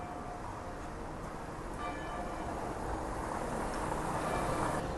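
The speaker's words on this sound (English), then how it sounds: "that's the bells of Southwark Cathedral" Distant bells of Southwark Cathedral in London ring faintly through a wash of outdoor city noise, their tones sitting softly above a steady rumbling background.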